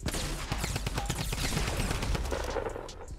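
Fortnite gunfire cracks out in rapid, sharp, close bursts, a dense string of loud reports that includes a shotgun among the shots.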